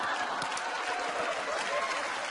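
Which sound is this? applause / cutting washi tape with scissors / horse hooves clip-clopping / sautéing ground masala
applause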